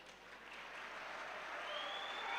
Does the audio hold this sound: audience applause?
yes